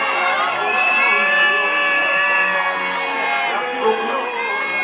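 A crowd at a school cultural day cheers, whoops and shouts for the children, a dense, continuous wall of excited voices with children's shrieks. Scattered speech runs through it.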